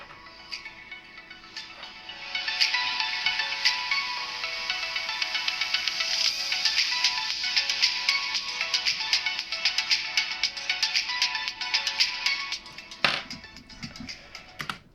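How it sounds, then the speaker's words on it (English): Tinny, thin music plays faintly as if leaking from small CCZ Solo DC02 earbuds, with a steady bright tone and scattered light clicks over quiet background. "let's go ahead and play the royalty-free music"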